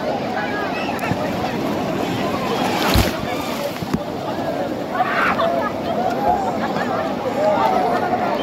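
Ocean waves wash steadily along the seashore, a continuous close surf roar with wind and the odd louder surge throughout.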